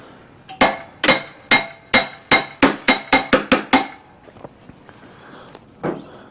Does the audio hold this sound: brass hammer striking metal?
yes